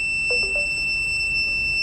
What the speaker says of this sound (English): the buzzer gets switched on